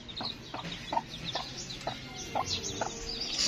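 Labuyo junglefowl hens and tiny chicks cluck and peep in a steady scatter of short calls, close by and moderately loud over a low background hum.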